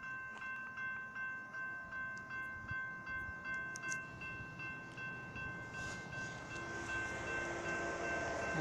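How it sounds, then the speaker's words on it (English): An Amtrak Talgo passenger train rolls past steadily southbound on the main track, a rhythmic clatter of wheels over rail joints building as it nears, with a faint horn tone above. "Train coming."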